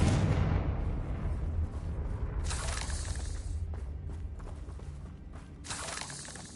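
Confringo blasting spell erupting in Hogwarts Legacy, a loud explosive burst followed by crackling, rumbling debris, with further sharp blasts flaring near the middle and end, no voices.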